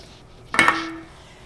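A 6-inch disc of lemon blueberry cream scone dough is set down on a metal baking pan. It makes one sharp clattering knock with a brief ringing tone after it, alone in a quiet room.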